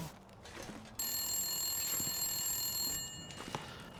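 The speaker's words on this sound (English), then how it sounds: "Oh, right, I better answer the phone." A telephone rings in The Long Dark, a bright electronic bell tone holding for about two seconds at moderate volume over quiet game ambience, followed by faint thuds.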